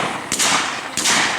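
Two sharp, loud shotgun blasts ring out during an outdoor dove hunt, spaced about half a second apart, each with a short broad decay.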